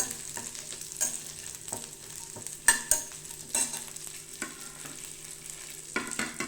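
Ginger, onion and dried red chillies sauté in a pan, a soft steady sizzle broken by occasional stirring scrapes and clinks, close and fairly quiet.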